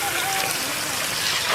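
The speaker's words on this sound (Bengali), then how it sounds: "জল দিয়ে দিলাম।" Water is poured into a pot of chicken curry cooking outdoors for village people, giving a steady, close rushing hiss that runs without a break for the whole moment.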